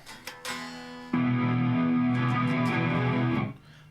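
Electric guitar through a ToneX Curly Crunch amp model with compressor, high gain and chorus, no reverb: a few picked notes, then a loud sustained crunchy chord ringing for about two seconds before being cut off.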